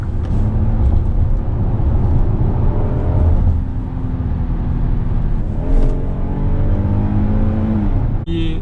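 A North American-spec Hyundai Palisade engine revs hard in sport mode's manual setting, climbing through the gears on paddle shifts as the pitch rises, drops at each change, then climbs again toward the rev limiter without reaching fuel cut, loud and continuous.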